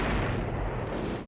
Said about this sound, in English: Okay, straight with explosions.